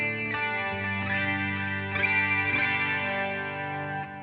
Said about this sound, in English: A Fender Twin with a Bassman cab, a chorus, just a bit of church reverb and some delay.